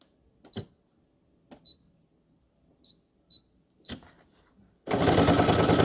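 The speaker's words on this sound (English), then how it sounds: "So this one's just going to sew around." Sewing machine stitching around a fabric journal tag, heard after several soft clicks and faint beeps as a loud, close, steady whir that starts abruptly and runs on.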